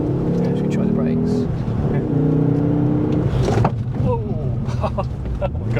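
A 2006 Ford Focus ST pulls hard through a third-gear corner, its engine note rising and falling in steady harmonic sweeps, loud and close from inside the cabin, with people talking over it.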